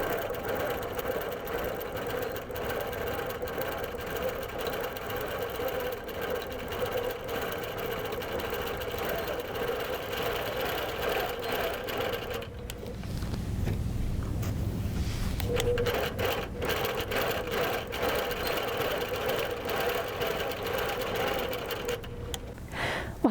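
A sewing machine runs a blanket stitch in red thread for raw edge appliqué, a steady close whirring hum that carries on without pause, with a brief deeper rumble partway through.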